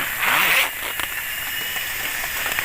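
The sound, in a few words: unzipping a raincoat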